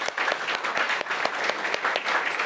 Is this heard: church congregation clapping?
yes